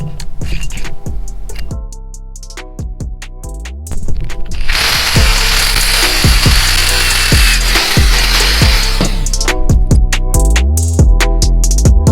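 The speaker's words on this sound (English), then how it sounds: "going to drill into this washer to make this bolt fit" A power drill bores into a metal washer to widen it for a bolt. Loud rhythmic ratcheting clicks surround a few seconds of harsh, continuous grinding, heard close up with no talk.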